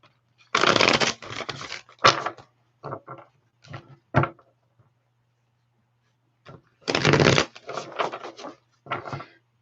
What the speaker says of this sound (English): Let me get some good shuffles and I'll do your timestamps.